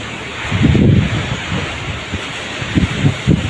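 A wind and rain storm roars outdoors, with loud, rumbling gusts buffeting close to the microphone and surging and easing over a few seconds.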